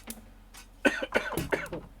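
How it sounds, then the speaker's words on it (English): Several dry coughs and throat clears from one person, close and fairly quiet, coming in a cluster of short bursts with brief pauses between them. "So tired of coughing."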